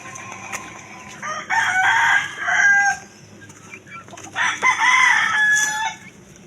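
A rooster at a gamefowl farm crows twice in close succession, each crow a loud, drawn-out call, with quiet yard background between the calls.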